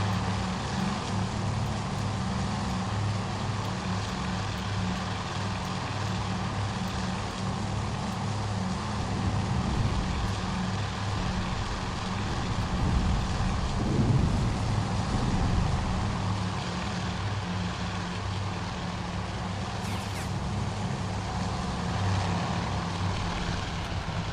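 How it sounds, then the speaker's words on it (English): Torpedo bomber aircraft in Task Force Admiral, a constant droning engine rumble over several dozen seconds with a slight swell midway and no speech. "Torpedo bombers are inbound, so let's see what they manage this time"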